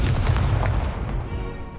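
A fiery Incendio spell blast erupts in the video game Hogwarts Legacy, a loud booming burst with a rumbling low body that rolls and fades over under two seconds.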